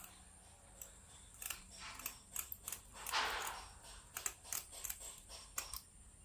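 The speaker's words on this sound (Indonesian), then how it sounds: "Sebelumnya kita ini durinya kita potong dulu ya pakai gunting ya" Scissors snip through the fins of a freshly caught fish being cleaned, giving a run of short, crisp metallic cuts at an irregular pace, close and fairly quiet, with no talking.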